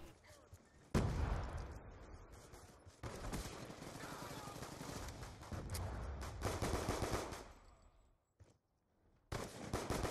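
TAC-45 pistol fire from Call of Duty Black Ops 2, heard as dense, loud bursts of gameplay shooting and action noise that cut out briefly near the end before resuming.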